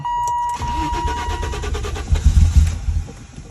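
An old 1988 BMW 325i E30 engine cranks briefly, then catches and settles into a rough, uneven idle, heard close by.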